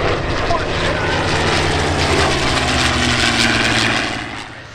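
A P-51 Mustang propeller warbird passes over an airshow, its loud, steady piston-engine drone roaring close and filling the air before easing off at the end.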